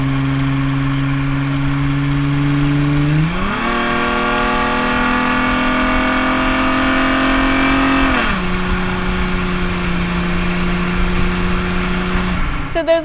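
Catback dual exhaust with turn-down tips on a 1999-2004 Mustang V6 drones steadily near the microphone, revs climbing sharply then holding high before dropping back to a lower idle-like note, then briefly rising again at the end.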